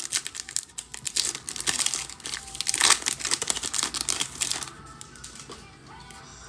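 A foil trading card pack is torn open and crinkled by hand, giving a dense run of close, loud crackling and tearing that fades toward quieter rustling at the end.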